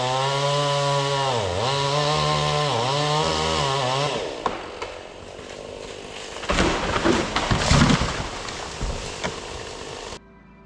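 A chainsaw cutting down a dead poplar tree, first revving loudly in rising and falling surges, then biting into the wood with a rougher, uneven grinding before stopping abruptly.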